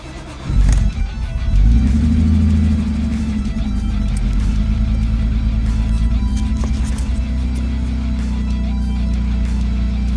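A BMW E46 engine with a freshly replaced fuel filter cranks briefly and catches, then settles into a loud, steady, close-up idle rumble.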